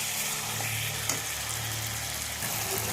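Vegetables frying in spiced oil in a pan and being stirred, a steady broadband sizzle throughout with a faint scrape of the spoon, close and continuous, with no talk.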